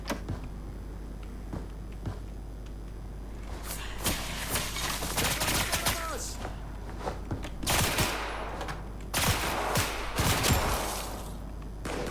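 Bursts of gunfire crackle repeatedly, some loud and close and others more distant, as rooftop snipers fire during a BRM5 video game match, with sharp cracks and rapid volleys spread over several seconds.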